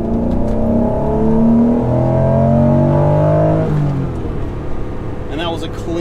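A high-mileage Acura NSX engine pulls hard at full throttle from about 2,000 RPM, a loud rising drone climbing steadily before easing off at the shift, with a person talking over it.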